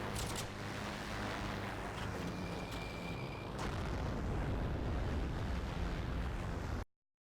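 A bomb dropped from a plane in the Heroes and Generals video game bursts into a loud, rumbling roar that rolls on for several seconds before cutting abruptly to silence.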